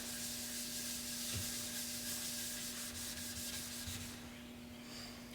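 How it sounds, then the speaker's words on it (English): A white Scotch-Brite pad rubs hard wax oil into a wood finish in a steady, close scrubbing hiss with back-and-forth strokes, alone over a faint electrical hum. "I'm going to use a white Scotch-Brite pad, do a little wax on,"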